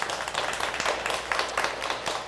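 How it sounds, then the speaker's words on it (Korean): A lecture audience at a Korean television talk breaks into applause, a steady dense patter of many hands clapping at moderate volume from across the room. "우리 박수 한번 부탁을 드리겠습니다."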